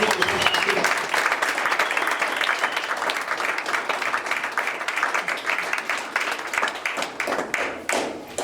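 A church congregation breaks into sustained applause and cheering to acclaim the word of God, dense clapping from a large crowd that carries on for several seconds with voices mixed in.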